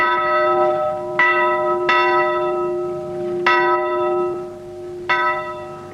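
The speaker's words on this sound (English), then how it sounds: "they summoned everyone together by sounding this great bell on the roof" A great town council bell rings from a rooftop, four clear strikes at uneven intervals, each ringing out with a long humming decay that overlaps the next, loud and close with no voices.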